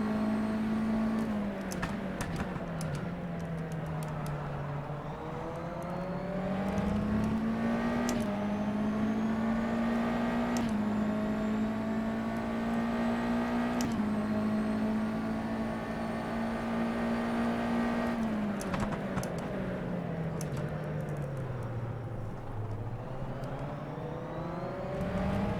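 Open-wheel USF2000 race car engine in rFactor 2 at Homestead-Miami, loud and continuous with a steady high whine that climbs through the gears, dips on lifts and rises again under sustained acceleration, with no voices over it.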